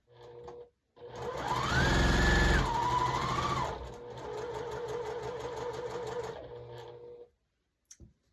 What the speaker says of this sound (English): So I'll go ahead and sew those together.